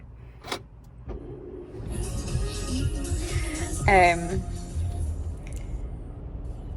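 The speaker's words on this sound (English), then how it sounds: "In fact, let me put the car on." A car being switched on, with a click, an electronic chime and rising hum from the starting system, a brief whir in the middle, and a person talking over it.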